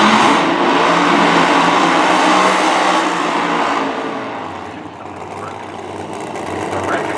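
Drag racing cars doing burnouts at a Drag Racing USA event, a loud sustained engine roar and tire squeal filling the first half, easing off briefly before rising again, with an announcer talking over it.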